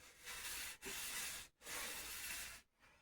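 800 grit sandpaper rubbing along the edge of a jazz bass fretboard, three close, steady hissing strokes separated by brief pauses, with no voices.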